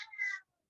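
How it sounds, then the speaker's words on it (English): A Newfoundland cat gives a single loud, close meow lasting under half a second, then silence follows. "A Newfoundland cat, by the way."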